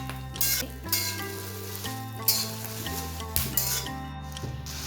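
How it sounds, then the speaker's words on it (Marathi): Byadgi chillies roasting in about a tablespoon of oil in a kadhai, a steady close sizzle with occasional scrapes and clinks of a spoon stirring against the pan, no voices. "आपल्याला आता बेडगी मिरची ही छान अशी भाजून घ्यायची आहे."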